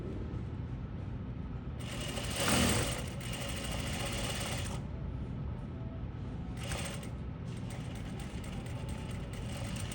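A sewing machine runs a straight stitch through polyester fabric, a rapid mechanical whirring in two bursts, the first about three seconds long and the second shorter, over a steady background hum.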